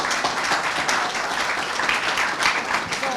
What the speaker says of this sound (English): Let's give all of the champions a round of applause.